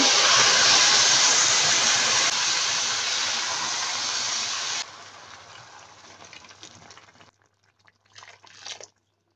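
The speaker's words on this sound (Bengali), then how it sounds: "ফুটন্ত গরম পানি দিচ্ছি।" Loud, steady sizzling hiss of boiling water poured into a hot pan of frying lentils, gradually fading and breaking into softer crackles before falling silent.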